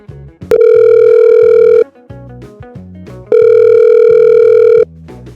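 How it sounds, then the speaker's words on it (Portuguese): A telephone line plays two long, loud, steady tones at the start of a call, separated by a short gap, with a brief click before the first and faint music-like sounds underneath. "conseguiu imagens exclusivas do telefonema entre Lula e Donald Trump"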